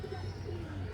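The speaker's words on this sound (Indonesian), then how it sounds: "burung merpati." Pigeons coo steadily in an open green space, a low soft rolling murmur that continues throughout at moderate level, with faint background ambience.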